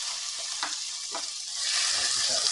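Garlic, onion and chilli fry in hot oil in a pan, a steady close sizzle with a few scraping stirs early on, the hiss swelling louder and denser toward the end.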